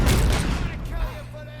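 Gunfire in the Robocop Rogue City video game, a heavy booming burst of shots that rings out and fades, with a voice speaking over it.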